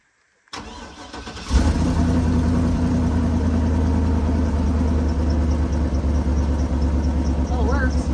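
A truck engine with a newly repaired fuel pump cranks and catches after a short electric whir, then settles into a loud, steady, rumbling idle close by, and a voice comes in briefly near the end.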